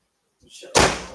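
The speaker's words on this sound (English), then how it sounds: "Let me just shut the door, the doors" A door swings and slams shut with a loud, booming thud, preceded by a brief soft rustle of movement.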